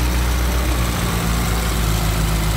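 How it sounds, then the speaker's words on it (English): A 1968 Morris Mini Cooper S engine with a carburetor idles steadily, a close, even mechanical hum and putter with no voices over it. "I've just this second started her before I've done this video."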